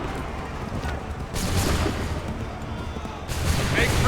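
Musket volleys boom out in the Assassin's Creed III battlefield, a sustained crackling fusillade that swells into two louder bursts of massed gunfire, with shouted commands mixed in beneath the din.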